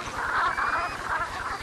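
Brent geese honking in a steady, overlapping flock chorus, loud and close, with continuous calls throughout and no talk.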